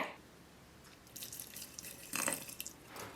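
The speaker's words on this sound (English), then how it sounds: "Next, add your water." Water poured into a jar of soil comes as a few short splashing, trickling bursts, close and fairly quiet, separated by brief pauses.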